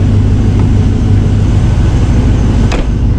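A 2001 Chevy Silverado engine, just fitted with a new fuel pump, revs hard up close in a loud, steady, rumbling drone with no pauses.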